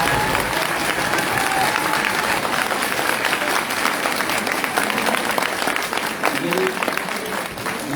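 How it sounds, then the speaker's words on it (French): Audience applause at a school eloquence contest final in France, sustained dense clapping from a crowd filling the room, loud and continuous with some voices mixed in. "On peut encore les applaudir."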